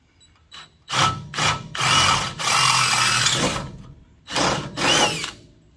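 Several bursts of a power drill whirring loudly up close while working under a 1964 Chevrolet Impala, the longest about a second and a half, with short pauses between them.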